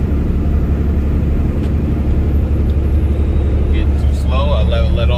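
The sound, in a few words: Peterbilt 579 truck engine brake descending mountain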